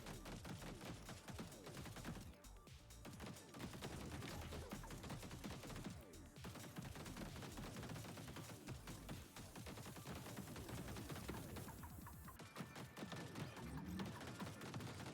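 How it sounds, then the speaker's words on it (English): Flat cannon firing in the vehicle combat game TerraTech Legion, a dense nonstop barrage of rapid gunfire blasts layered with explosions, steady and loud throughout. "There's our flat cannon going off there."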